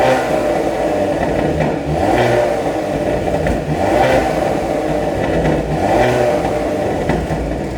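The Hyundai Veloster N's engine is revved repeatedly through its large exhausts, three surging blips rising and falling in a rhythmic pattern, loud and close with rattly overtones.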